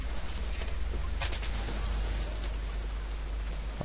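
Gunfire and explosions from the video game Battlefield 4, set in Baku, form a dense, continuous roar of shots and blasts with sharp cracks, with little pause.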